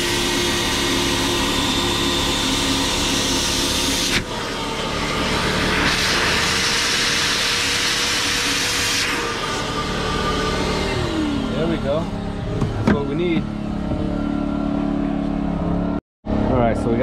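A generator runs steadily beside a Freightliner Cascadia truck, a loud continuous engine drone heard close up under people talking, with a few clanks and a brief dropout near the end.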